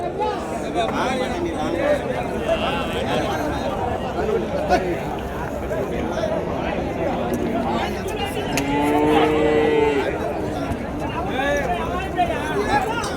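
Native cows and calves at the Uthangarai cattle market give a couple of brief moos, the clearest near the end, largely buried under continuous crowd chatter and a busy outdoor bustle.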